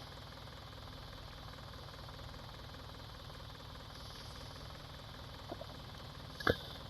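A tractor engine idles far off at night as a faint, steady low rumble with a soft knocking texture, plus a brief sharp noise near the end.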